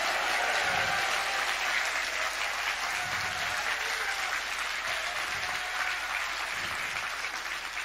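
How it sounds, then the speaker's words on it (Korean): A large gathering at a revivalists' spiritual retreat in a hall claps hard and continuously, a thick, even roar of applause with a few low thumps underneath and no speech. "이건 박수 세게 쳐야 돼요"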